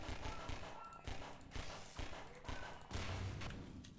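Rapid bursts of gunfire fill a Half-Life 2 firefight, dense overlapping shots and thumps rattling on almost without pause, loud and close.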